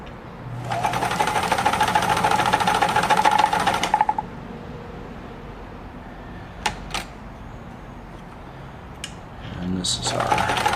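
A Kenmore 1341 sewing machine runs a stretch blind hem stitch in a loud, steady whirring burst of about three seconds. A few clicks and knocks follow in a quieter pause, then the motor starts up again at the end.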